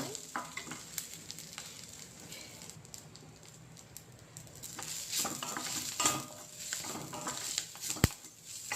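Drumstick leaves fry in oil, a close crackling sizzle with intermittent stirring scrapes and a sharp metallic tap near the end, growing busier in the second half, without speech.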